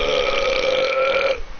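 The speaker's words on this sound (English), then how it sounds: "So, burp." A single loud, deep burp rolls on for over a second, close and alone, then cuts off abruptly.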